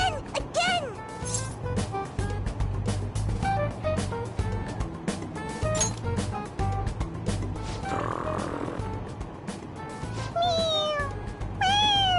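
Squeezed on its head again and again, a toy cat in Persona 5 Royal lets out a string of repeated meows over a game music bed, with characters' voices chiming in between.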